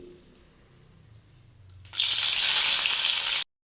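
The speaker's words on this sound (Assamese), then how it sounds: "এতিয়া ইয়াতে মই চিকেনটো ফ্ৰাই কৰি ল'ম, তাৰ বাবে প্ৰথমতে মই শুকান জলকীয়া আৰু মাহপাত দি দিম" Dry red chillies and bay leaves hit hot ghee with a sudden loud sizzle that holds steady for about a second and a half, after a quieter stretch of low kitchen rumble, then cuts off abruptly.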